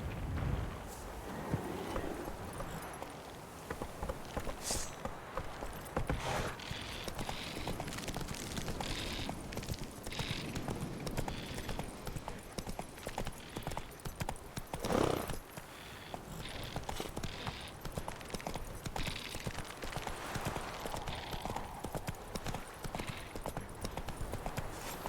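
Hooves of a galloping horse in The Witcher 3 video game clip-clop steadily and briskly throughout, mixed with game ambience and brief louder effects, with no voices.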